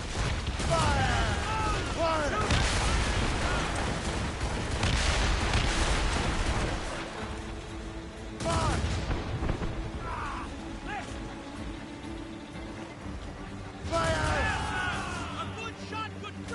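Ship cannons boom in heavy volleys during a naval ambush in Assassin's Creed Rogue, with rumbling explosions and crashing impacts in bursts under shouted game dialogue and music.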